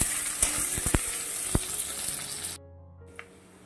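A large chopped onion sizzles in hot oil with whole spices and is stirred in the pan. Constant close frying hiss comes with a few utensil clicks, then drops sharply quieter for the last second.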